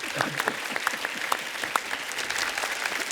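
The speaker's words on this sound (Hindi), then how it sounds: "एक बार जोरदार तालियां हो जाएं" An audience claps at an entertainment industry talk, a fairly faint, loose patter of individual handclaps with distinct sharp hits over a soft background.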